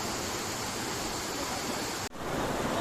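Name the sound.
river water flowing in a canyon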